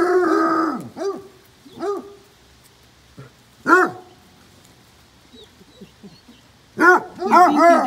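Basset hounds barking in bursts, loud and close, with deep baying barks at the start, a few scattered single barks, then a rapid flurry of barking at the end; a soft whimper or two in the quieter gaps.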